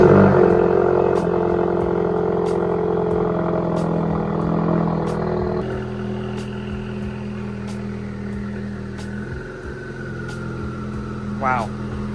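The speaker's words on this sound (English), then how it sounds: "Let's get a little cold start on the RS." A Ford Focus RS engine starts cold and settles into a loud, steady idle with a lower, rougher rumble after a few seconds, close by; brief talk may be mixed in.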